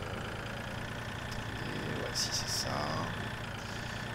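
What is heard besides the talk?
tractor engine in Farming Simulator 2013 video game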